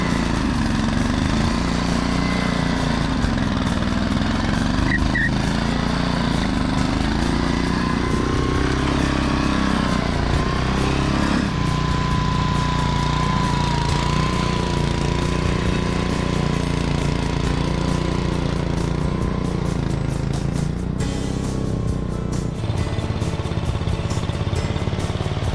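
A Troy-Bilt rear tine tiller engine runs steadily and loudly while breaking ground to expand a homestead garden, its continuous drone wavering slightly in pitch under load throughout.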